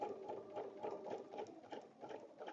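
A sewing machine stitches through a paper-pieced fabric coaster, giving a steady, close, fast mechanical whirring patter at moderate volume with no voices over it.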